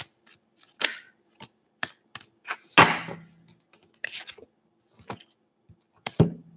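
Tarot cards being shuffled by hand at close range, a run of sharp papery riffles and slaps with a louder burst of shuffling in the middle, between short pauses and with no talking.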